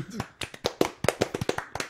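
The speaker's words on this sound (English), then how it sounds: "No, it's a golf clap." A few people give a light golf clap, uneven and scattered, a patter of soft hand claps mixed with voices talking and laughing nearby.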